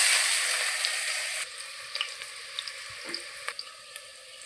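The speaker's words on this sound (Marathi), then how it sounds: "फोडणी देते मिरची टाकली." Green chilli dropped into hot oil for a phodni tempering, cooking a Konkani tender jackfruit vegetable: a steady broadband sizzle settles into a quieter crackle with scattered sharp pops, no voices.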